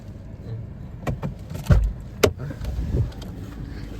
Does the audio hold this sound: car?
yes